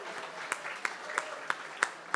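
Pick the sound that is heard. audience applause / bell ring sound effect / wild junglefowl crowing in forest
audience applause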